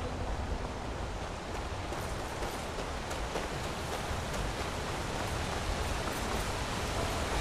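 Rain falling in the video game Skyrim, a constant hissing wash of steady downpour with no pauses or voices, even and moderately loud throughout.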